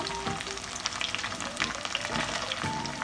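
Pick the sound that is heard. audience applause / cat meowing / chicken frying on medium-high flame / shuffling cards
chicken frying on medium-high flame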